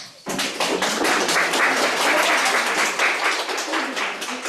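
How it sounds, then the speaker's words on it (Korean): A church congregation claps in welcome during a service, a sudden burst of many hands that starts sharply and stays dense and even for several seconds before easing slightly, with no talk over it. "박수로 환영하겠습니다"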